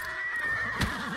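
A horse in the Ghost of Tsushima video game gives a close, wavering neigh with a brief loud snort near the end, heard alone without speech.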